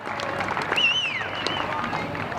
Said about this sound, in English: the crowd are making some noise here at North Hobart